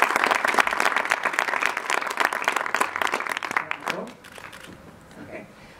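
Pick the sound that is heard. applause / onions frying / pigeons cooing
applause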